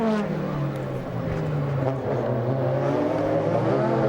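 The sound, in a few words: DTM touring race cars racing at Norisring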